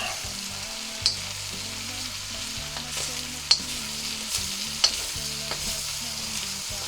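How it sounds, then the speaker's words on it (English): Mushrooms and stir-fry mix sizzle loudly in a hot pan for a Chinese stir fry, with a steady frying hiss and a few sharp clacks of the utensil as the food is stirred. "We'll chuck that in there and just stir it for a few minutes. Righty, in with the mushrooms, in with the stir fryer mix."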